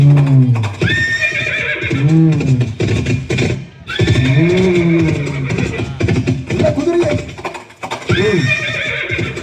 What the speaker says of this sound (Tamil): வெள்ள குதிரையே போ வேகமா போ